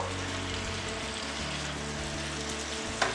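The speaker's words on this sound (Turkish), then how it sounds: "güzelce soteliyorum" Zucchini and vegetables sauté in a pan with a steady, close, dense sizzle over a low hum, and a single brief stir or scrape near the end.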